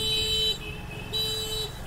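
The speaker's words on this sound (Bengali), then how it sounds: "আর হর্নটা মারো একবার" A scooter horn honked twice in quick succession on a Kolkata road, each a loud, close, steady electric beep lasting about half a second, over low traffic rumble.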